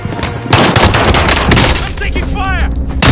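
Video game gunfire, dense rapid bursts of shots close and loud with a few heavier booms and a ricochet-like whine near the end.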